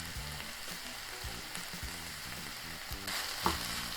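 Kimchi and pork with scallions stir-fry in a pan for tofu kimchi, giving a steady close sizzle with repeated scraping stirs and a brief louder burst near the end, with no talking.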